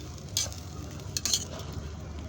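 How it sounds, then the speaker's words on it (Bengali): Cashews being stirred into prawn pulao in a pot, with two short scraping stirs over a low, steady cooking hiss. "কাজু বাদাম দিয়ে আমি আর একটু নাড়িয়ে চাড়িয়ে মিশিয়ে আবার দমে রেখে দেবো কিছুক্ষণের জন্য"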